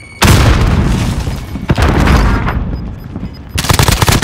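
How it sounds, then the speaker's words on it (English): Grenade blast and gunfire in a video game, a heavy booming explosion followed by a sustained rumble, then a rapid rattling burst of automatic fire near the end, all loud and close. "Frag out."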